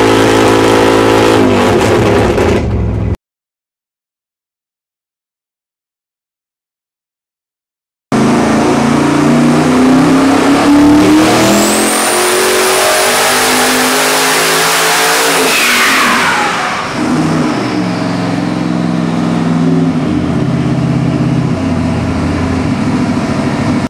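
A Nelson Racing Engines pump gas Warrior 632 big-block engine runs loud and close, dropping out for several seconds, then revving up to a high, sustained whine before the pitch falls away and the engine settles back to a rumbling idle.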